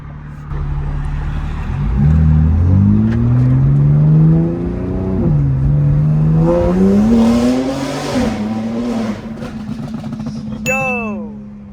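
A tuned Stage 2 G87 BMW M2 pulls hard, its engine note climbing in rising sweeps through several gear changes before easing off near the end, loud and close, with a voice talking briefly over it.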